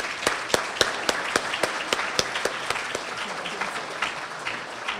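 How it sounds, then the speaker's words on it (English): Audience at a school citizen-of-the-month ceremony giving a round of applause, with steady claps that thin out gradually over about five seconds. "Let's give them one more round of applause."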